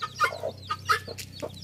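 A country hen clucking while feeding chicks, a series of short, close, distinct clucks in an irregular rhythm over a low background hum.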